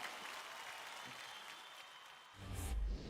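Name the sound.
audience applause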